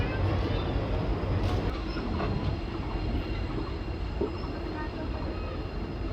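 Siliguri–Bamanhat InterCity Express train slowly pulling out of Siliguri Junction station, a steady, loud, continuous rumble of rolling wheels and carriages with faint squeals on top.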